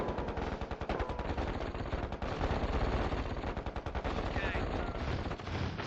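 A stationary machine gun turret in the KKND strategy game rattles out continuous rapid automatic fire, loud and unbroken, with a brief spoken word layered over the shooting.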